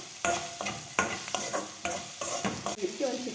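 Onion, curry leaves and coriander frying in an oil-filled pan for ridge gourd curry, a close sizzle punctuated by quick, regular stirring scrapes and clacks.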